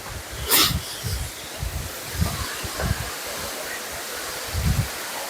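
Steady broadband rush of a waterfall on the Cascades walking track in NSW, a continuous wash of falling water heard nearby, with a few low thumps of movement and brief louder bursts over it.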